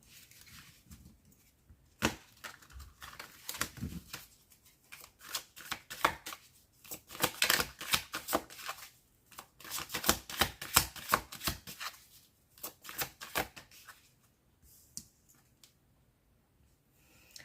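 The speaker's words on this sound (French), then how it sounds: "on va démarrer le tirage et voir les énergies qui ressortent pour vous prochainement" Tarot cards are shuffled for a reading in quick, close riffling bursts of papery flutter and slaps, coming in uneven clusters separated by short quiet pauses, with no talking.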